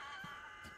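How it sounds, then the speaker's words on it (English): Chicken in the Resident Evil 4 video game, a brief, faint clucking squawk heard up close from the game audio. "Damn, chicken."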